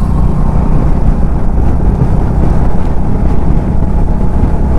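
Honda H'ness motorcycle accelerating hard in third gear toward 80, a loud, steady engine roar with broadband wind rush continuing without a break.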